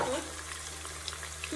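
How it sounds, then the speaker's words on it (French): Sliced onions fry in oil and butter inside a Cookeo multicooker, giving a steady, fairly faint sizzle that holds evenly throughout with a few small pops near the end. "vous allez venir prendre vos oignons émincés et vous allez les mettre aussi. Rajouter sur l'huile et le beurre. Et on va laisser dorer un petit peu"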